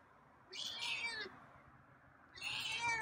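A feral cat meows twice outdoors at night, each a drawn-out, wavering call separated by a short pause, fairly close and clear above faint background noise.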